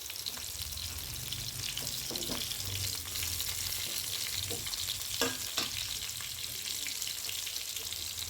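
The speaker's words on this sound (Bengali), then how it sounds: "এই তো কই মাছগুলো ভেজে নিচ্ছি" Large koi fish frying in oil, a continuous dense crackling sizzle filling the background at an even level, with occasional soft scrapes and bumps of a spatula moving the pieces; no voices.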